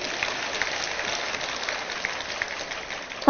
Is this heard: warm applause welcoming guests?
yes